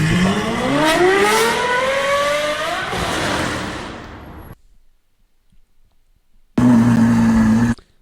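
An Audi RSQ8 engine revs loudly and close, pitch climbing through a long pull before cutting off, then a short silence and a steady high idle-like drone returning near the end.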